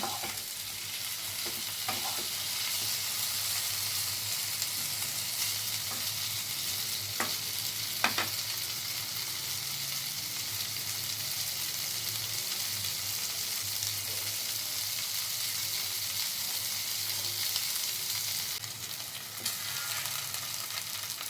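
Paneer cubes fry in a spoonful of butter, giving a continuous moderate sizzle that runs unbroken for a long stretch, with occasional light scrapes and clicks of a utensil in the pan.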